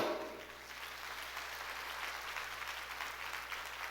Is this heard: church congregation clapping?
yes